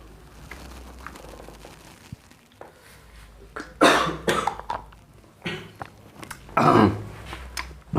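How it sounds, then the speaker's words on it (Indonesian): A few sharp coughs burst out close by against a quiet background, clustered in two groups a couple of seconds apart. "Batuk."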